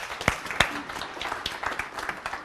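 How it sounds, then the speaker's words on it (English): A seminar audience gives a round of applause: steady, dense clapping close by, with a few sharper individual claps standing out, lasting the whole short stretch. "I think we need a round of applause for that"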